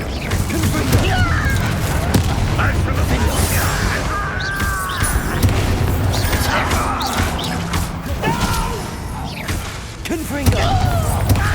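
A Bombarda explosion spell goes off in Hogwarts Legacy with a crashing blast, set within dense, loud game effects and a continuous background score while players talk over the action.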